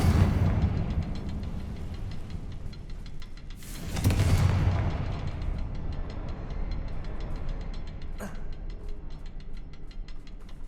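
A Confringo spell explosion in the video game Hogwarts Legacy, set in catacombs, lands as a loud boom about four seconds in over a steady rumbling game backdrop, with a brief sharp crack later on.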